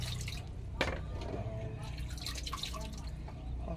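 Mangosteen fruit being rinsed under water, with steady dripping and splashing close by and a sharp knock near the start, continuous throughout.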